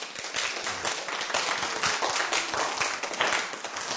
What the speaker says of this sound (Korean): 여러분. 박수 치세요.